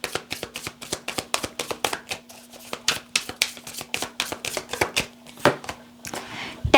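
Tarot cards being shuffled by hand, a quick run of crisp riffling flicks and soft slaps repeating steadily at close range with no talk over them.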